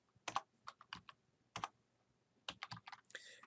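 Quick bursts of keystrokes clatter on a computer keyboard, quiet and close, in irregular clusters separated by short pauses, with no talking.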